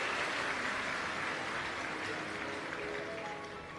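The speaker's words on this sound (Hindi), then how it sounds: "यजमान परिवार के लिए जोरदार ताली बजाकर स्वागत" Loud, dense applause from a large audience at a Hindu Shiv Mahapuran religious discourse in Pune, steady clapping throughout that eases slightly toward the end, with no talking over it.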